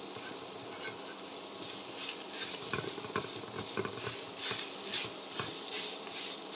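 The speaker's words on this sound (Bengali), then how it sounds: "দিয়ে এটাকে ভালো করে ভেজে নেব।" A mashed potato mixture fries in a pan, giving a soft steady sizzle with spatula stirring and scraping bursts, close but fairly quiet.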